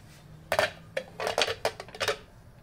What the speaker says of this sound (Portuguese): e vamos fechar a nossa panela agora.